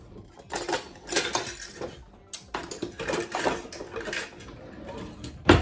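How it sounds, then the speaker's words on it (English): Pizza cutter wheel rolling and clinking across gluten-free pastry dough on a counter for homemade strawberry pop tarts, irregular close scraping bursts with pauses between cuts. "So I'm gonna get the pizza cutter,"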